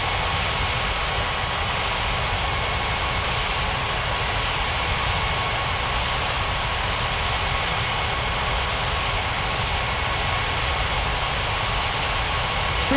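An airliner taxiing at an airport in a flight simulation game, a steady unbroken jet engine roar holding at the same level, loud and continuous throughout.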